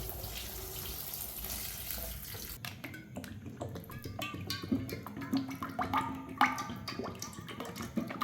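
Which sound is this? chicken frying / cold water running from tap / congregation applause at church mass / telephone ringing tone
cold water running from tap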